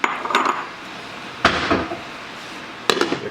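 Shrimp tumble into a pan already holding mushrooms for a spicy miso pasta with scallops, giving three separate clattering, scraping bursts of metal and food against the pan, close and fairly loud with no talking.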